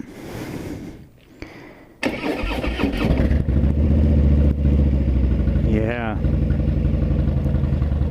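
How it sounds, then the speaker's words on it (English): A motorcycle with Vance & Hines Straight Shots exhaust cranks and fires up, then settles into a loud, deep, rumbling idle from the throaty pipes; a voice speaks briefly. "That's the sound of Vance & Hines straight shots."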